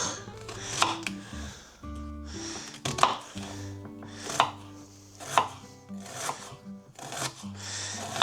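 A knife chops an onion on a board in about six separate bursts of quick, crisp cuts with brief pauses between them. The sound is close and moderate in level, and no one speaks over it.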